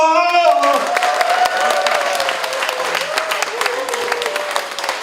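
An audience at a novel's book launch celebration breaks into applause, loud crowd clapping that stays steady after a voice speaks at the start and briefly again under it.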